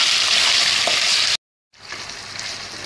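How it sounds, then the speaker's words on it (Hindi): Chicken pieces fry in a pan with ginger, a loud, dense sizzle that cuts to silence briefly and then resumes slightly softer, with no voices. "अब मैं इसमें चिकन डाल दूंगी। चिकन को अच्छा सा भून लें।"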